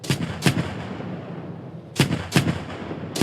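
Heavy cannon-like gunshots from an M2 Bradley in a video game crack out in two groups: a pair of blasts, a pause, then several quick shots over a constant low rumble.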